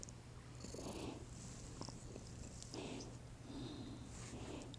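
A house cat purring close by in a quiet home yoga studio, a soft rhythmic rumbling in repeated breaths, faint and low in level, with light rustling around it.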